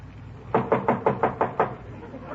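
Knocking at a door in an old-time radio comedy, six quick evenly spaced raps, close and fairly loud over a quiet background.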